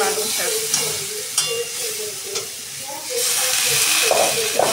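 Frying vegetables being stirred in a pan, a loud continuous sizzle and hiss broken by repeated scraping and clattering strokes, close by.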